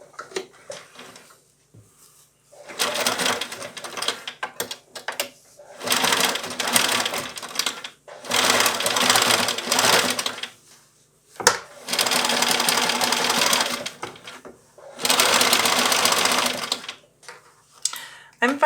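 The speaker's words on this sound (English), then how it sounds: "let's sew this at 1/4 inch all the way around" Sewing machine running a 1/4-inch seam around a knit and fabric mitten in several separate whirring bursts of a few seconds each, with quiet gaps and handling sounds between them.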